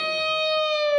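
An electric guitar sustains a single note, bent a step and a half up from the flat third in a blues pentatonic phrase. The note is clear, close and steady, with a slight pitch drift at the end.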